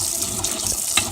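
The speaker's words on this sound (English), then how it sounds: "Put on the water so we can get rid of all the extra starch on them" Tap water gushing into a sink to rinse starch off chickpeas, a steady splashing flow with small spattering bursts as it hits the beans.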